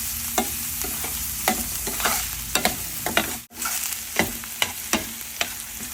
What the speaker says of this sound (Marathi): कांदा आपण छान परतून घेऊया